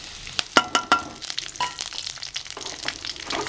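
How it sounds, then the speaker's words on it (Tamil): Mustard seeds, urad dal and curry leaves hit hot oil in a kadai for a snake gourd stir-fry, crackling and popping in sharp bursts over a continuous sizzle, close and fairly loud, with no speech. "இப்போ தாளிப்புக்கு கொடுத்த கடுகு உளுந்து கருவேப்பிலை போட்டுக்குவோம்"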